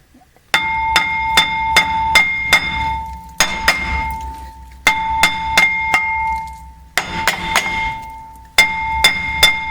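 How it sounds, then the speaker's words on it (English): Metal clangs ring out in four quick bursts as a small handheld sledgehammer strikes a rusted brake rotor on a Hyundai Azera, each loud strike leaving a bell-like ring, with no talking. "I found all I had to do is take a nice small handheld sledgehammer,"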